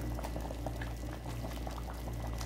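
Arabian shorba soup boiling in a pot, a dense, continuous bubbling and gurgling heard close and steady throughout.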